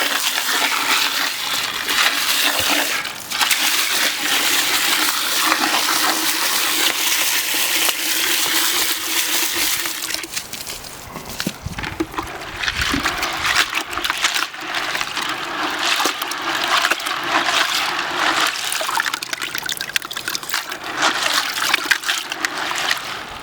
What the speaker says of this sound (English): We're just going to rinse this off really good.